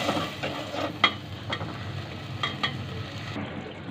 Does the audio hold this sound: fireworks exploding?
no